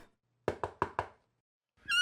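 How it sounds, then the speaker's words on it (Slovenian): Someone knocks on a door with four sharp, evenly spaced raps close by, framed by brief silence. "ko so potrkali"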